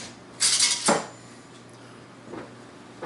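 Metal utensil stirring oregano into tomato pizza sauce in a pot or bowl, a few bright clinking scrapes close up followed by a quieter clink, with no talking.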